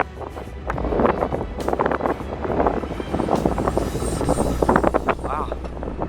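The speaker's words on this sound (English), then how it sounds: "It's pretty strong wind under here too." Strong wind during a storm chase buffets the microphone in steady roaring gusts, with people talking over it.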